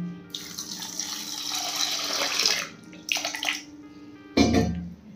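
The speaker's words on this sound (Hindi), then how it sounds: "ये लीजिए वापस से ठंडा पानी।" Cold tap water runs and splashes into a bowl of grated raw potatoes to rinse out the starch, pouring steadily in a few bursts with a louder splash near the end.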